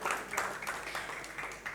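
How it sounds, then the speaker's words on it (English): Artists applaud at an OTT app launch event, giving a soft, steady patter of many hands clapping at once. It sounds distant and faint, continuous across the short moment, with no clear voices. "An artist applauding for the other artist right there."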